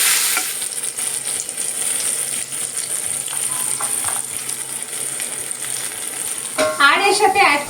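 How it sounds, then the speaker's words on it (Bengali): Turmeric and chili powder frying with pumpkin and potato in a pan make a steady hiss and sizzle throughout, with a brief clatter of stirring near the end. "একসাথে মশলাটা ভাজা হয়ে যাবে"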